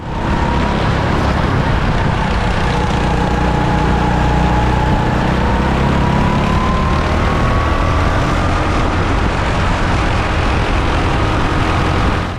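Racing go-kart engine at full throttle during a 10-hour endurance kart race, a steady loud droning whine that holds throughout with a slowly shifting pitch, no voices over it.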